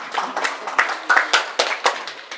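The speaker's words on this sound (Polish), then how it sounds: "Teraz można brawa bić, a później już nie." Scattered clapping from a small audience at a horse riding camp, a handful of uneven claps in loose rhythm, fairly close and clear, with brief gaps between bursts.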